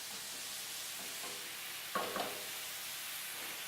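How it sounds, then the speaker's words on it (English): Steady, even sizzling of hard vegetables frying in a pan, with a brief scrape of stirring midway. "All your hard vegetables busy frying there right now."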